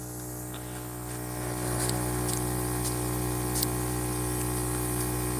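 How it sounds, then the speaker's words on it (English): A cheap 60-euro airbrush loaded with thinned paint hisses with a steady, sputtering spray and a constant compressor hum underneath, with a few faint ticks along the way. "Like, it wants to spray, but it won't."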